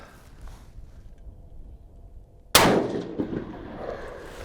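A single loud gunshot from a 224 Valkyrie rifle at a shooting range cracks out after a quiet stretch, then trails off into a ringing, echoing decay.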